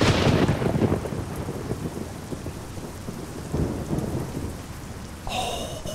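Heavy thunderstorm rain pours steadily in the truck-driving game Euro Truck Simulator 2, with deep rolling thunder rumbling near the start and again midway, a dense loud downpour throughout.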